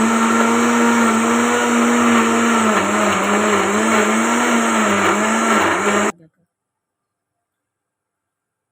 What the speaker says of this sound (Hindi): अब ये मैंने ग्राइंड कर लिया जूसर वाले जग में डाल के ब्लेंडर में